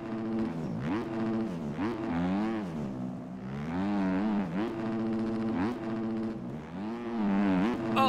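A Yamaha motocross bike engine in the MX Bikes video game screams at high revs, rising and falling repeatedly as gears shift and the throttle opens, loud and close throughout with no talking.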